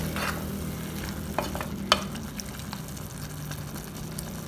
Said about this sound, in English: Give it a good stir and add in your potatoes and boil this along with the potatoes